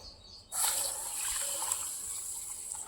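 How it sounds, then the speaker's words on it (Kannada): Water poured into a container of sesame seeds to wash them begins after a short pause, then runs as a steady, close splashing trickle to the end. "ಇಷ್ಟು ಹಾಕ್ಕೊಂಡು ಅದಕ್ಕೆ ನೀರು ಹಾಕ್ಬೇಕು ಜಾಸ್ತಿ"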